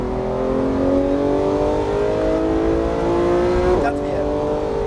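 A Porsche GT3 accelerates hard around the Issoire circuit, its engine pitch climbing steadily and loudly through a gear, with a brief shift break near the end and the onboard engine note filling the cabin.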